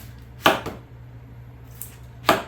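Knife slicing through a whole pineapple into rings on a cutting board, two distinct crisp chopping thuds about two seconds apart, each followed by a lighter scrape, against a quiet low hum.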